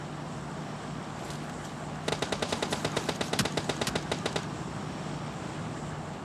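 A rapid burst of automatic gunfire in the video game PUBG Mobile Lite, about twenty evenly spaced shots lasting around two seconds, moderately loud over a steady background hum, with no talking.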